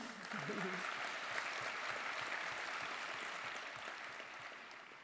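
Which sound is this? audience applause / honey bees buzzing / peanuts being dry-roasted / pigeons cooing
audience applause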